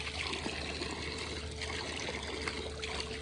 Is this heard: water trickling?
yes